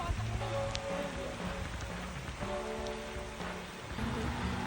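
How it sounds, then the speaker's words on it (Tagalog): Heavy rain pouring down on a road trip through Bicol, a steady, loud hiss of drops beating on surfaces that fills the whole stretch without letup. "Sobrang lakas ng ulan."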